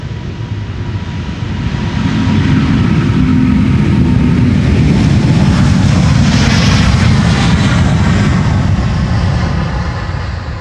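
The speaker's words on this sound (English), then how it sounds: "That's China Southern Airlines, flight 308, going to Guangzhou in China." A China Southern Airlines jet bound for Guangzhou takes off from Schiphol's Polderbaan runway, a loud, sustained engine roar with deep rumble that builds and holds, with no voices.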